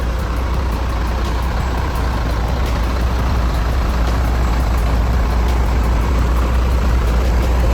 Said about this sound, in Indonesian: Kita lewat belakang ya, biar lebih dengar suara mesin ya. Mesin Mercedes-Benz OM 926LA.